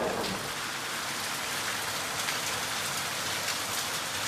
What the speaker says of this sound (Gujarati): તડકા સાથે વરસાદ પડી રહ્યો છે.